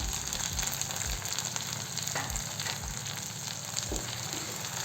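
Chopped tomatoes fry in a pan with onions and green chillies for soybean bhurji, making a continuous sizzle with occasional low spoon thumps and scrapes, close and without speech.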